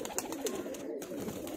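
A female Malwai pigeon, a small, slim highflyer breed, gives a faint, soft low coo, brief and close amid quiet background noise.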